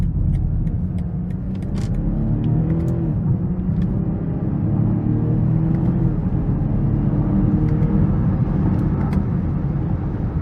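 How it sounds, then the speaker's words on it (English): A 2021 BMW X5 xDrive40i M Sport with its 3.0-litre turbo engine and 8-speed automatic, heard from inside while driving: a steady, loud cabin rumble and road drone, with faint rising and falling engine pitch as gears change. "this 8-speed automatic really fast shifts. Downshifts and upshifts"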